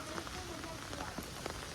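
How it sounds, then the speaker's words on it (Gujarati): Steady rain patters on a surface, a continuous close hiss with scattered droplet taps and no pauses. "હજી વરસાદ આવવાનું શરૂ છે વાદળા થઈ ગયા પાછા હજી વરસાદ આવે છે"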